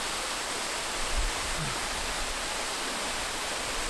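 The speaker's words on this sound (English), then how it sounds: "Guys, you have to check out this waterfall." Can-umantad Falls gives a constant, even rush of falling water, a dense steady hiss with no breaks, heard alone.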